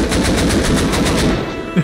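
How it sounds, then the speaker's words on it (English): Automatic turret in Rust on console firing a rapid, steady stream of bullets, loud and close for over a second before cutting off, with a brief thud near the end. "This turret is just ripping bullets into me."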